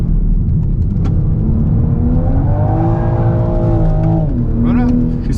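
Toyota GR Supra engine revving while drifting, a loud continuous drone with rising and falling pitch as the revs climb, with a voice talking over it.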